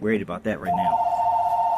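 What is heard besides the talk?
mobile phone ringing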